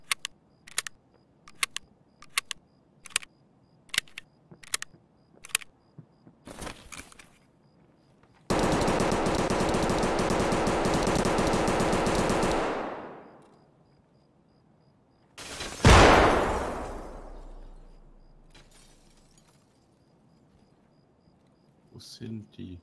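Suppressed AK rifle fire in Escape From Tarkov on Shoreline, sounding as a rapid series of sharp, fairly quiet shots, then longer bursts of broadband noise; a voice briefly joins.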